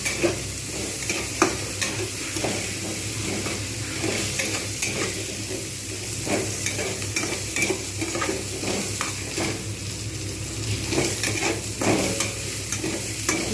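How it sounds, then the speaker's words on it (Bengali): Onions frying in oil while being stirred for a banana-flower curry, a continuous close sizzle broken by repeated scrapes and knocks of a spatula against the pan. "পেঁয়াজটাকে আমি ভালোভাবে লালচে করে যতক্ষণ পর্যন্ত না ভাজা হচ্ছে ততক্ষণ পর্যন্ত কিন্তু আমি এটাকে ভালোভাবে ভাজবো"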